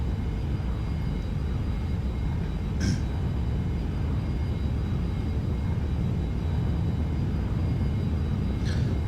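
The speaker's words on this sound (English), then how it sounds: "Throttle forward, hands off the throttle." Boeing 737 engines at takeoff throttle in the X-Plane 11 flight simulator: a steady, dense broadband roar with a low rumble, holding constant throughout, with a couple of brief faint clicks.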